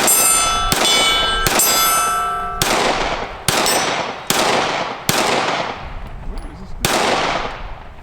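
IWI Masada 9S pistol fired outdoors in a string of about nine sharp, loud gunshots roughly one second apart, each with a ringing metallic clang and decaying echo as brass casings eject.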